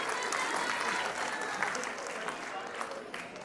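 Audience applause at a ghazal cultural programme, a steady wash of many hands clapping throughout, moderately loud and fading slightly toward the end.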